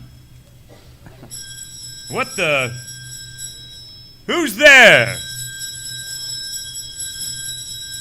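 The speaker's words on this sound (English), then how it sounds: "But suddenly, Scrooge's calling bell began to ring." An old-fashioned calling bell in a staged Christmas Carol performance rings in two short sustained bursts, each closely followed by a startled spoken exclamation, with a steady hum underneath.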